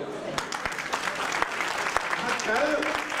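Sparse, sharp claps from an audience at a spiritual discourse land one by one beneath a man's ongoing speech, fairly quiet and irregularly spaced.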